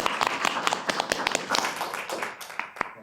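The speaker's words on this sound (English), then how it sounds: "So give him a round of applause." A room at a city council meeting breaks into a brief round of applause, a dense patter of many hands clapping close by that thins out toward the end.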